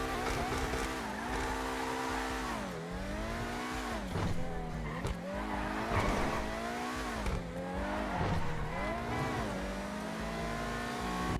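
A high-revving Grotti Visione sports car engine in GTA Online howls, rising and dropping repeatedly through gear changes, with bursts of tire squeal, loud and continuous.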